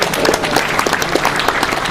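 An audience claps steadily for two seconds at a college lecture by Chuck D at FSU, a dense and even patter heard from inside the room.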